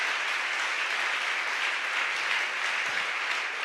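A church congregation applauds steadily, a continuous wash of clapping at moderate level with no voices over it.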